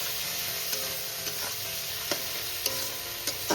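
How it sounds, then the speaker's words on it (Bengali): Chicken with turmeric and other spices sautés in a pan, a steady close sizzle with periodic scrapes and clicks of a spatula stirring. "এবার আমি চিকেনের সঙ্গে সমস্ত মশলাটাকে ভালো করে আমি কষিয়ে নেব।"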